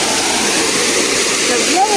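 Steady broadband rush of San Jose Falls in Tandag City, continuous and fairly loud throughout with no clear talk over it.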